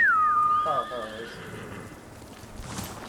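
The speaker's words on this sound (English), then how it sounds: "Where's my horse? Oh, there it is." A horse in Ghost of Tsushima lets out a loud, clear whinny that trembles and fades, with faint hoof clops and background game ambience behind it.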